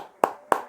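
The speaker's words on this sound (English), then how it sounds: "Give you a clap too." Two sharp hand claps about a third of a second apart, close and crisp against a quiet background.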